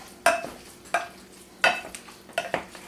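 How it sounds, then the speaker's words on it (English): Turkey, garlic, salt and oil stirred in a pot, a spoon scraping and knocking the pot in four or five distinct close strokes over a faint sizzle, with no voices. "I'm just mixing it really good."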